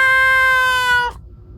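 A cat meows once, a sustained, tonal call of about one second, close and fairly loud, ending abruptly, with quiet room tone after.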